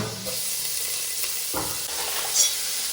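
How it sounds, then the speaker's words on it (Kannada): Ginger garlic paste frying in a pan, a continuous close sizzle with soft stirring scrapes and a brief hiss near the end. "ಈಗ ಮೊದಲಿಗೆ ನಾನು ಜಿಂಜರ್ ಗಾರ್ಲಿಕ್ ಪೇಸ್ಟ್ ಹಾಕ್ಕೊಳ್ತಾ ಇದ್ದೇನೆ"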